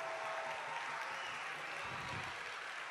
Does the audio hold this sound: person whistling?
no